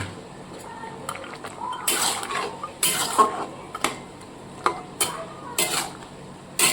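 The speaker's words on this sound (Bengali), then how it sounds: "এবার হচ্ছে আমি ভেজে রাখা ডালের ওবরাগুলো দিয়ে দেব" Fried lentil dumplings are tipped into a pot of bottle gourd curry and stirred, with repeated metallic clanks and scrapes of a spoon against the pot over a faint background sizzle.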